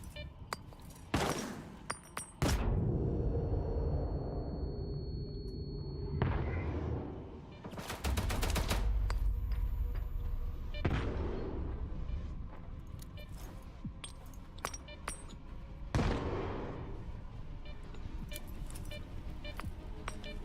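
Grenades explode in the video game S.T.A.L.K.E.R. 2. Several sharp, loud blasts are spread across about twenty seconds, each followed by a rumbling tail and gaps of quieter ambience.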